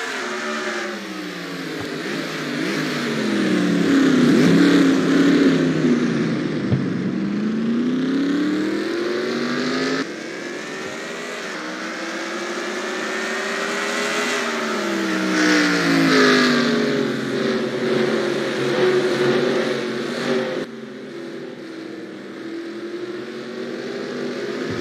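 Race car engines in NASCAR Racing 2003 on the Portland road course whine loudly, rising and falling as they accelerate, shift and brake through corners, several cars overlapping in a continuous close roar.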